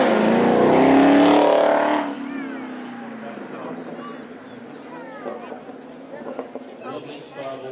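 A Chevrolet Camaro with a 6.2 litre V8 accelerating hard on a track, a loud roar for two seconds, then fading to a distant drone with engine notes and the general noise of the crowd and the track.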